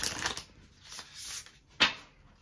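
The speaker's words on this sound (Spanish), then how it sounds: "vamos a barajar dos veces para Capi" Tarot cards being shuffled in a few soft riffling bursts, then a single sharp snap of the deck near the end, close and fairly quiet with no talking.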